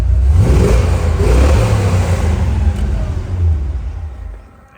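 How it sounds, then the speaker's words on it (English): A 1971 Chevrolet Corvette with a 454 big block V8 revs up loud and close, a deep throaty roar that swells and holds before easing off toward idle at the end. "Let's give it a little bit more gas."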